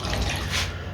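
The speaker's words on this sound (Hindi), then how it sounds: "और इसके अंदर हमने करना है पानी ऐड" Water poured into a bowl of chicken pieces marinating with vinegar for malai tikka, a steady close splashing pour that lasts the full second with no voices.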